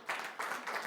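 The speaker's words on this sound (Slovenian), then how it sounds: "Haleluja, dajmo en aplavz" A church congregation breaks into a short burst of applause, with many hands clapping together in dense, swelling pulses.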